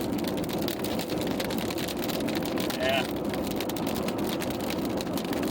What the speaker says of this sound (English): Speaking of rain, as you can see, it's back.